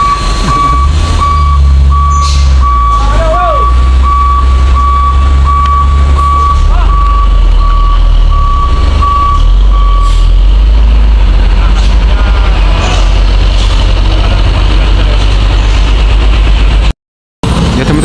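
Long queue of large trucks stalled on a steep climb, with a reversing beeper pulsing in a steady rhythm over deep, loud idling diesel engines, while people talk nearby.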